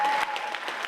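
Audience applause for eighth-grade students at a school bridging ceremony, a brief burst of dense clapping from a crowd, steady throughout with no voices over it.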